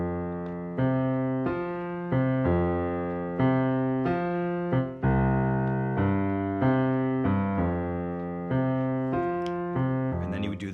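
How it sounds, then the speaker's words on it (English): A piano plays the left-hand bass line of a song alone, steady repeated root-and-fifth bass notes in a walking pattern with full sustained chords, about ten seconds without talk. "play the bass line from the record, which is nice and full, you can also do that."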